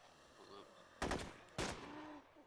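Two loud, sharp bursts of suppressive gunfire in the video game DayZ ring out about half a second apart, each trailing off quickly over faint background.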